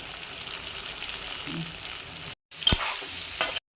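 Marinated, pre-boiled prawns fry in a pan with a close, continuous sizzle and stirring scrapes, broken by a brief silent cut before the crackle resumes with sharper spatter.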